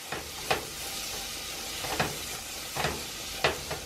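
Quinoa with garlic and scallion seasoning plus salad and vegetable seasoning is stirred in a pan; a soft, steady sizzle runs throughout, broken by about four brief scraping strokes, close and fairly quiet.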